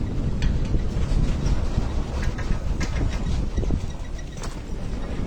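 A ropeway train moving uphill at Jogindarnagar in Himachal Pradesh gives a steady low rumbling roar with faint clanking and rattling, loud and continuous throughout with no talk.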